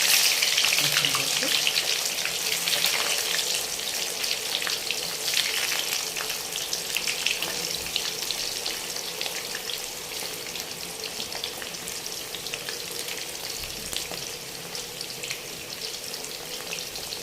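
Stuffed bitter gourds fry in hot oil with a continuous, moderately loud sizzle and watery crackle that runs steadily for over fifteen seconds.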